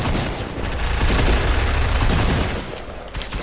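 Harpoon gun shots in a video game amid a dense, continuous barrage of loud gunfire and booms, heavy and close throughout with no clear gaps.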